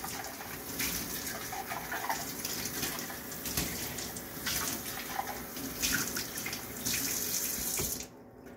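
Cold water runs steadily from a kitchen tap into a sink, a continuous splashing hiss at modest volume that stops abruptly near the end.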